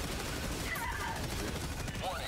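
Quiet, continuous gunfire crackles in the background of a Helldivers 2 defense mission, with a voice talking over it.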